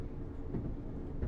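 A train pulls into a station in the Train Sim World 4 simulator, heard as a steady, low rolling rumble that stays even and moderately quiet throughout, with no voices.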